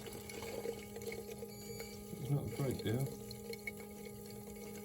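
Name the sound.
water running from an opened tap while bleeding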